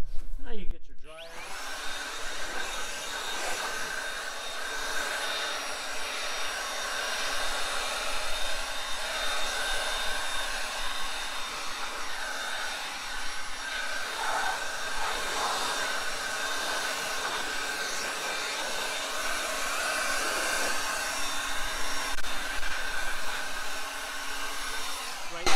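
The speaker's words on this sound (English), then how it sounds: "Now you get your dryer." A steady, loud car dryer roars continuously with a whining tone, pushing air to dry a rinsed car touchlessly, sustained throughout with no pauses.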